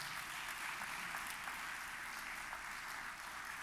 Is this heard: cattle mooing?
no